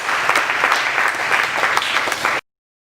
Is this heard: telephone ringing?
no